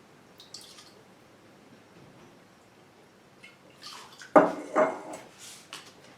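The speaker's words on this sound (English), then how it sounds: "I usually just do a bit of a fork. And I'm just getting this all thoroughly mixed together." A fork clinks and scrapes inside a bowl while raw apple cider vinegar dressing is whisked together, a few soft taps first, then a cluster of sharp, close metallic clatters and wet stirring after a quiet pause.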